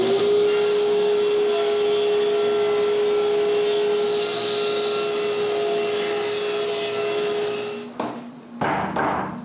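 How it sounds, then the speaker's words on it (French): A power tool cuts wooden boards in a workshop, giving a sustained, loud, steady whine and rough buzz that winds down and stops, followed by a few short bursts. "j'ai juste à couper 4 autres planches"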